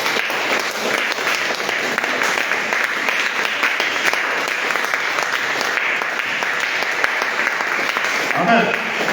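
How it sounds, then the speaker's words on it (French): A church congregation at a women's spiritual session at EMCC church in Man applauds loudly and continuously for several seconds, a thick roar of clapping with some voices mixed in and a brief swell near the end. "Applaudissons le Seigneur"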